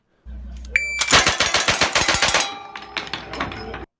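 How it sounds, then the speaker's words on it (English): Rapid semi-automatic rifle fire in a world-record speed shooting run, a fast burst of sharp, loud cracks in quick succession, then a few more spaced shots trailing off. "Just how fast could you shoot this firearm? Here's a world record."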